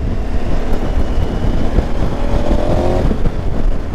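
A 2020 KTM 1290 Super Adventure motorcycle pulling hard in fourth gear, its loud, continuous engine roar mixed with heavy wind rush, with no speech.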